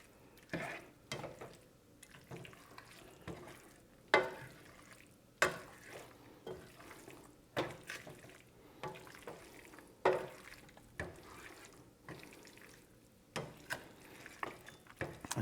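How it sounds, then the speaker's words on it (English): A spoon stirs pesto through chicken pasta with mushrooms and sun-dried tomatoes in a pan, giving quiet repeated scraping and clacking strokes at an uneven rhythm, with a soft sizzle underneath. "we just want to stir everything to evenly incorporate all that pesto throughout the dish"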